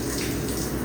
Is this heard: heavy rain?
yes